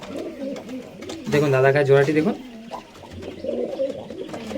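A Madrasi pigeon gives a deep, throaty coo for about a second, close by, at a pigeon sale in Uluberia, with someone talking before and after it.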